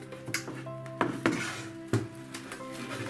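A baking tray being worked loose from thin pastry sheets frozen rock-hard onto it, giving several sharp metallic knocks and clanks with scraping and rattling in between, close and fairly loud.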